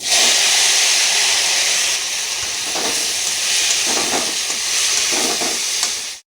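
Mushrooms frying in hot oil in a wok give a loud, steady hiss and sizzle close up, with a few soft scraping stirs midway before it cuts off abruptly.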